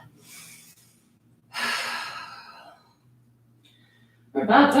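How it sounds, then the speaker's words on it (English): Deep breaths during a yoga flow, long airy inhales and exhales in separate bursts, close and clear with quiet gaps between them and no talking. "Take a breath."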